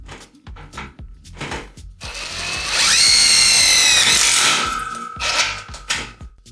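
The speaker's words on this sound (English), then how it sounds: "So, a self-drilling screw, a 10mm socket." A power drill with a 10mm socket whines up and drives a self-drilling screw into metal studs in one sustained burst of about a second and a half, surrounded by knocks and clattering handling sounds.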